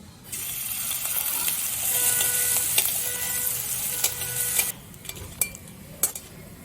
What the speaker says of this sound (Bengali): 1 চামচ গোটা জিরে দিলাম। ফোড়নের জিরেটাও দেখুন ভেজে নিয়েছি।